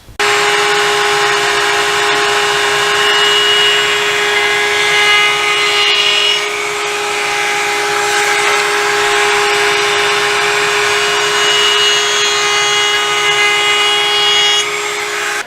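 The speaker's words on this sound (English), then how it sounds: "let's take them over the router and use a round over bit and smooth these exposed edges" A router fitted with a round-over bit shapes the exposed edges of small wooden brace pieces for a decorative window-top shelf, giving a loud, steady high-pitched whine with a constant motor tone that runs without pause.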